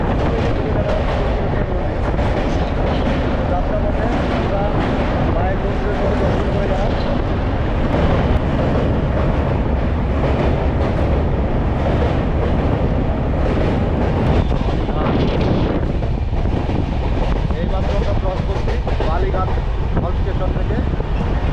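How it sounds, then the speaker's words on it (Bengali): The Sealdah-Jammu Tawi Humsafar Express picks up speed over the Vivekananda bridge across the Hooghly river, a dense, continuous roar of wheels and rushing wind from the open carriage door, with a voice talking over it. "দক্ষিণেশ্বর প্ল্যাটফর্ম ক্রস করে উঠে পড়ল হুগলি নদীর ওপর তৈরি বিবেকানন্দ সেতুতে"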